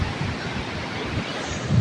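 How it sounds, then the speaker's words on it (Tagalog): Large ocean waves roll and crash at the sea under an overcast sky, a steady loud roar of surf mixed with gusting wind buffeting the microphone. "Sobrang laki ng mga alon."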